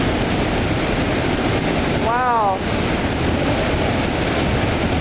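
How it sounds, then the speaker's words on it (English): Niagara Falls plunging just in front of a viewing spot behind the falls, a loud, continuous roaring wash of water and spray, with a brief exclaimed word midway. "We're behind the Niagara waterfall right here, and there's spray coming right in front of the camera."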